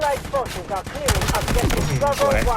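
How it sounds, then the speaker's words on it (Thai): Rapid gunfire from the mobile shooter game Delta Force Mobile bursts in partway through and keeps going loud. A voice speaks briefly before the firing starts. "โอ้โดนยิงซ้ายขวาเลย"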